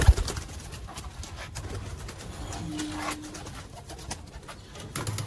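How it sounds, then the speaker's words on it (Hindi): Lahori pigeons, including teddy and golden birds, coo softly and repeatedly close by amid faint background rustle. "इनमें मामदीन कबूतर है, कमगर कबूतर है, गोल्डन कबूतर है, टैडी कबूतर है"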